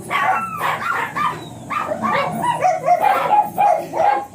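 A small blue Miniature Pinscher barks and yips repeatedly in quick, high-pitched bursts, close by, mixed with whiny whimpers.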